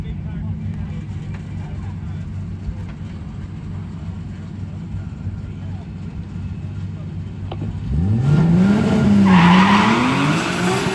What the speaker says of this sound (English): A little burnout action.